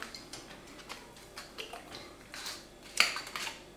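A spoon clinks and scrapes against a bowl while a mixture is being stirred, with light irregular taps and one sharper knock near the end, quiet and close, no talking.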